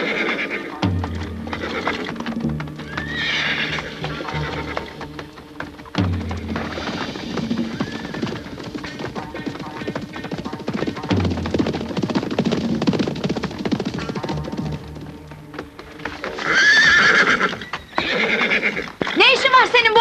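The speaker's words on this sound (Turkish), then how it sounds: "Atlara binin!" Horses whinny and neigh repeatedly while hooves clip-clop, mixed with voices and film sound, growing louder with a burst of neighing near the end.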